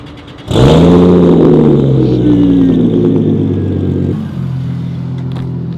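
A Lexus IS300 sleeper build with a new transmission launches hard, its engine note jumping loud and rising as it accelerates, then easing off slightly near the end.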